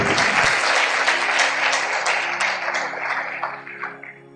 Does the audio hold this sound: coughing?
no